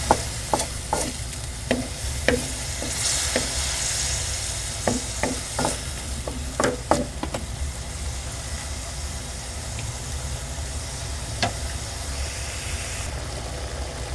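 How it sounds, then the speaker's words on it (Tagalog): Kangkong (water spinach) stalks frying in a pan with a little broth, a steady close sizzle broken by scattered sharp clinks and scrapes of stirring. "Ayan po muna natin maluto yung tangkay po ng kangkong"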